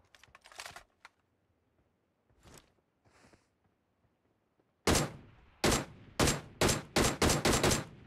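Gunfire in the shooter PUBG Mobile, a few scattered early shots followed by a loud, rapid burst of about eight sharp, close reports in quick rhythm.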